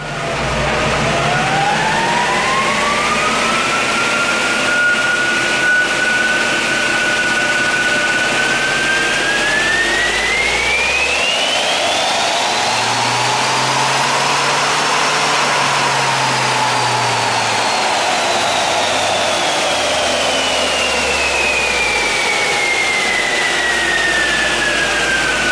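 A VW T5 2.0 TDI van engine held at full throttle on a dyno, a loud continuous diesel roar with a rising whine that climbs steadily, peaks, then eases slightly, with no talking over it.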